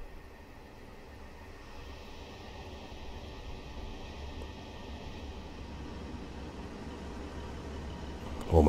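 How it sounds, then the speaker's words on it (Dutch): Class 150 train engine fitted with the Armstrong Powerhouse soundpack in a train simulator game, a low steady diesel rumble with a faint hiss, slowly building in loudness, no talk. "het is nu alleen de 150 die je nu hoort. Met dus de Armstrong Powerhouse soundpack erop."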